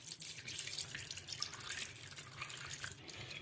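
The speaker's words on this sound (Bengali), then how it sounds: "ছানাটার মধ্যে এবার ঠান্ডা জল মিশিয়ে দেব।" Cold water poured into chhana, fresh cheese curds for homemade Bengali rasgulla, making a steady close trickling splash with faint dripping for about three seconds, with no voices.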